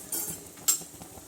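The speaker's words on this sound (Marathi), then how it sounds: "गॅस आपण बंद केला तरी पण हलवायचं, कारण हे पॅन गरम असतं" A spoon scrapes and clinks softly in a hot pan as spices are stirred after the gas flame is switched off. Brief, quiet stirring strokes sound close up, with no talking.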